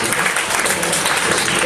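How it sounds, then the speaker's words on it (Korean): Applause fills a church during a children's sermon quiz, a steady dense clatter of many hands sustained throughout with no break. "성령으로 박수 받았습니다."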